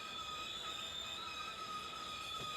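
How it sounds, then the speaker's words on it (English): Train brakes in the Run8 train simulator game on a KCS run give a steady, high, ringing squeal with several sustained tones over a low rumble, fairly faint. "Cause you hear the brakes right there for some reason."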